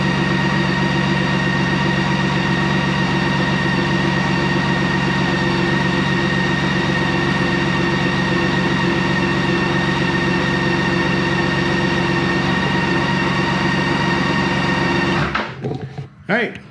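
A BMW K1600 Grand America motorcycle engine runs steadily at a loud, constant drone with a smooth multi-cylinder hum, close by, then cuts off abruptly near the end.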